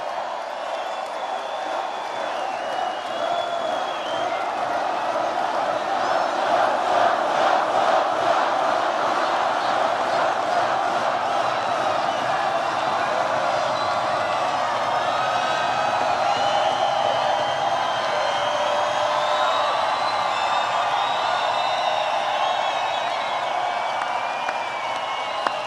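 A packed crowd at a Trump rally in Loveland, Colorado, fills the hall with sustained loud cheering, shouting and whooping, a dense continuous roar with scattered clapping and indistinct voices within it.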